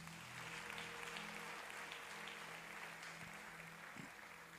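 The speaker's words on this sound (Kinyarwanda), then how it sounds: "Twongere dukomere umwami Yesu amashyi" A church congregation applauding during a worship service, a faint, even patter of many hands that holds steady for a few seconds and sounds distant.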